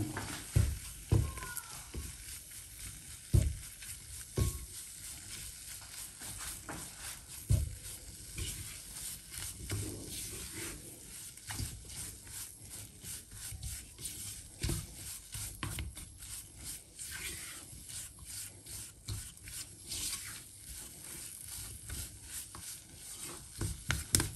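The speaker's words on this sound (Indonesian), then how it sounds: "Jadi ini proses masak terigu." Wheat flour dry-cooks in a pan over a small, low flame while a utensil stirs it, giving steady soft scraping and faint sizzle with irregular louder scrape accents throughout.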